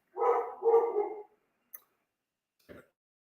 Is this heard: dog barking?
yes